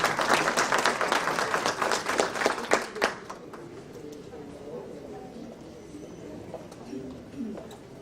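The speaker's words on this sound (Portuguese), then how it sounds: "Un fuerte aplauso para él." Applause from a conference audience greeting a speaker on judicial independence, dense clapping for about three seconds before it fades into quiet room noise and faint voices.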